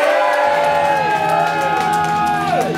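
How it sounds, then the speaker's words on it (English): A concert crowd at a gig cheers and whoops loudly and steadily, with shouted voices layered over one another for the whole stretch. "Oh, come on, give them a cheer, we're good."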